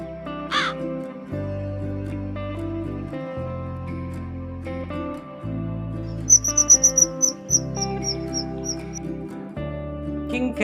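Bird calls sound over steady background music: a brief harsh call near the start, then a quick run of sharp, high chirps later on, attributed to a crow cawing.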